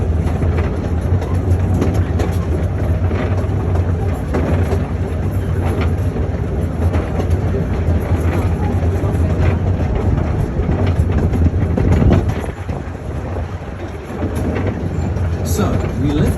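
A Moonta Mines tourist railway train rolls along with steady rumbling and faint clickety-clack, loud and continuous, while someone talks over it throughout.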